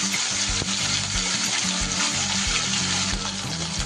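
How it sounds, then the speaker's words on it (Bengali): Chyama fish sizzling steadily in hot oil in a pan, a dense, close crackle that continues without pause. "খুব সুন্দর করে মাছগুলো কিন্তু ভেজে নিতে হবে।"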